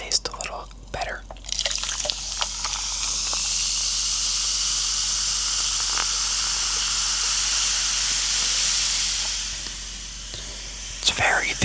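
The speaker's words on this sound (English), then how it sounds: "Look at all the fizz coming off of that." Carbonated soda poured over ice fizzes with a steady, close hiss that lasts several seconds, framed by small clinks and handling noises at the start and end.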